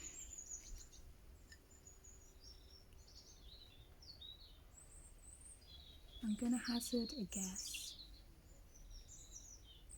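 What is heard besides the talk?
tit birds singing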